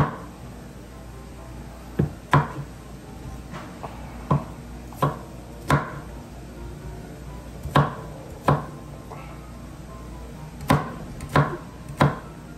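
Onion chopped with a knife on a board, a series of sharp, distinct thuds spaced irregularly about every second, close and clear over a quiet background, with no talking.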